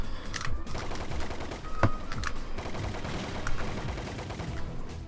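Assault rifle fire during an on-foot section of the Pursuit Force video game, steady rapid bursts with sharp individual cracks rising above the barrage, moderately loud and without voices.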